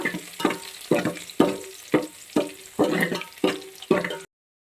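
Onions fry in a pot with a steady sizzle, broken by a regular series of close scraping stirs about every half second.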